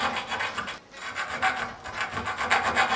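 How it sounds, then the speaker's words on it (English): A hand file rasps burrs off the end of a 3/4 inch burner tube for a homemade mini forge, in close, steady back-and-forth strokes with a brief pause. "I'm just trying to file any burrs off the corner here"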